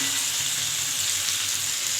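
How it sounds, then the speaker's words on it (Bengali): Beans, pumpkin, brinjal and other mixed vegetables fry in oil with panch phoron spices, giving a dense, constant sizzle. It is close and fairly loud throughout, with no voice over it. "আমি পাঁচফোড়ন দিয়ে একে ভাজতে দিয়েছি"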